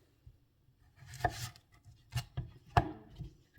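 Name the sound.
knife cutting food on a board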